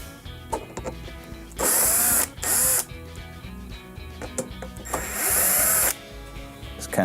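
A power drill backs screws out of a Samsung dishwasher panel, whirring in three sustained bursts between quieter handling clicks and rattles, close and fairly loud, with no talk.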